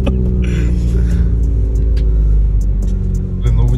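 A VW Polo 1.4 with a modified loud exhaust idles and revs nearby in a deep, heavy, continuous rumble that swells slightly near the end, with a voice briefly audible over it.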